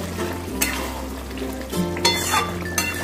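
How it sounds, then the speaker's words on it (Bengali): Jackfruit and prawn curry finished with homemade garam masala is stirred in a pan, with a soft sizzle under a few scraping spatula strokes and light clinks against the metal, close and moderately loud. "এবারে আমি নেড়ে ছেড়ে নামিয়ে নেব"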